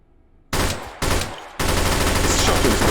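Three bursts of gunfire from the funnel spider, a shotgun-like SMG firing slow heavy projectiles in Hot Dogs Horseshoes & Hand Grenades, start after a quiet half second, the last one swelling into a sustained loud roar.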